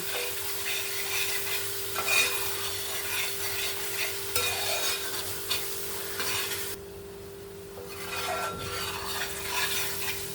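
Ground spice masala for chicken curry cooking in a pan, a continuous close sizzle with scraping stirring strokes throughout, quieting briefly midway before picking up again; no voices.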